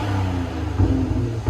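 A BMW X5 M40i 3.0L fitted with a Dynomax race bullet exhaust revs loudly and close by, a steady deep engine drone with two sharper throttle blips.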